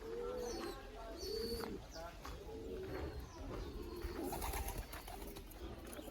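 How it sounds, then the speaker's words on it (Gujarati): Pigeons feeding in a loft with newly hatched chicks give soft, repeated low coos, faint and close, with muffled background noise throughout. "જોઈ શકો છો કબૂતરા તો ચણે છે"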